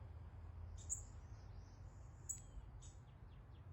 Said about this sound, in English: So if anyone knows what this bird call is